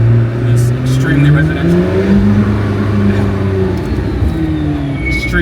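A $2+ million McLaren P1 supercar drives through a residential neighborhood, its engine droning loud and close with rising and falling revs throughout.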